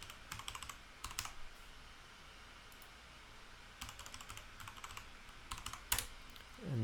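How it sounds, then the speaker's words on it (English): A password tapped out on a computer keyboard, quick bursts of close, crisp keystrokes separated by short pauses, with a louder final key press near the end. "so we type in the password, we press enter"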